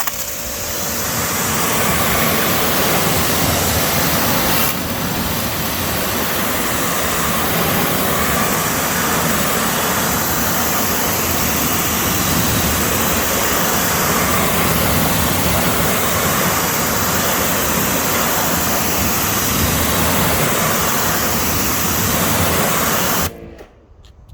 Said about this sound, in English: So let me pressure wash this off, and then we'll move to the back wheel